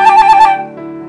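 A fast musical trill rapidly alternating between a note and the next higher note, played as a short bright run of pulses that settles into a held tone, with no voices.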